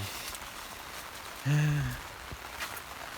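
Steady rain falls across an outdoor field during a windy rainstorm, a continuous close hiss of drops on the ground and leaves, with a brief low buzzing tone passing midway.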